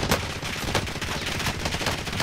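Dense automatic gunfire from the battle royale video game Warzone, rapid continuous bursts of shots filling the whole stretch, loud and close with steady rhythmic cracks.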